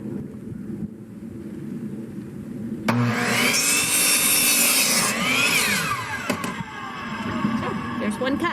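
A saw cuts through wood at a picture-frame angle, working on a small chicken tractor build: a loud grinding rasp lasting about three seconds, preceded by quiet handling noises and followed by lighter rubbing.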